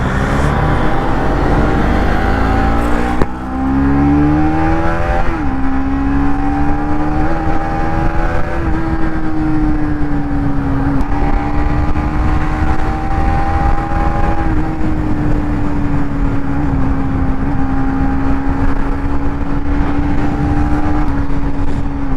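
A Bajaj Pulsar NS 200 without ABS rides fast in fifth gear at high speed, its engine holding a loud, steady high-revving drone under heavy wind rush, with a brief gear change early before the pitch settles and stays constant.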